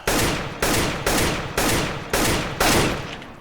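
Six loud, evenly spaced gunshots in a video game aim-training session, each a heavy boom ringing out until the next, about half a second apart, close and alone.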